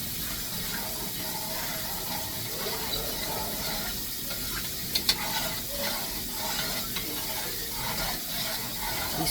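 A spoon stirs food sizzling in a pan, with a steady crackling fry and soft scraping strokes close by, and no voices.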